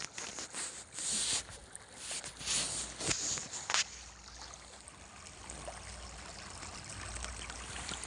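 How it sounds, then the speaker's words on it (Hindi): Water running into irrigated farm fields in Uttarakhand, a soft steady trickle and gurgle with a few louder splashy bursts early on, heard alone without voices. "खेतों में पानी लगाया जा रहा है।"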